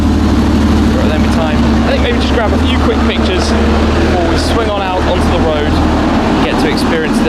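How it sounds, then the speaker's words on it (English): Twin-turbo flat-six sports car engine idling, a steady deep grumble held close and loud for several seconds while someone talks over it. "You can hear that flat six sound. You can also hear the turbos, a deep grumble."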